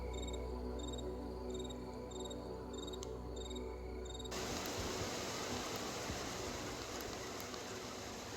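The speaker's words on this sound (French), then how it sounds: "Écoutez-moi les grillons." Crickets chirp in a steady rhythmic pulse on a stormy night, then a sudden broad hiss of rain or generator noise swamps the chirping halfway through.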